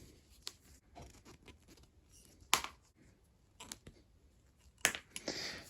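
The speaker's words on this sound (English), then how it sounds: "Just pull the rivets out." Rivets are pried and pulled out of leather with a small tool, giving sharp close snaps and clicks, two loud pops standing out among lighter scraping taps in a quiet room.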